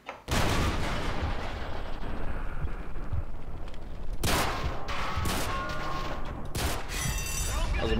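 Call of Duty Modern Warfare 3 gunfire and blasts roar continuously in a dense, loud wash, with several sharp bursts punctuating the barrage, and a voice occasionally heard under the noise.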